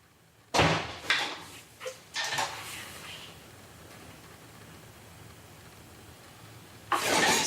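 A door shuts in a house during a ghost-hunting recording, with a sharp loud bang followed by several fainter knocks and a hissing background, then another loud thud near the end.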